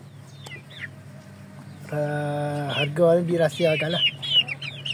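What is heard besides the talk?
India Gigante chickens clucking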